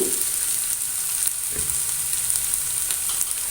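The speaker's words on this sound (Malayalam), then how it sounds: "ഇനി നന്നായി അതൊന്ന് വാട്ടിയെടുക്കാം" A pan sizzles and fries steadily as ingredients are sautéed for chicken pasta, with a constant close hiss and a few faint stirring knocks, and no voices.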